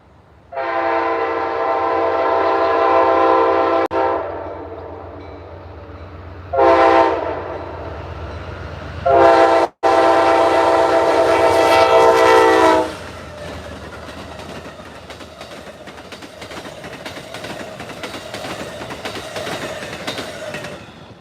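Amtrak passenger train passes near a crossing in Lilly, Pennsylvania, sounding its horn in several loud blasts, with a long final blast before the cars rumble and clatter by steadily.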